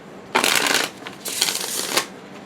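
A deck of tarot cards is shuffled up close in two quick riffling bursts, a crisp flutter of cards separated by a brief pause.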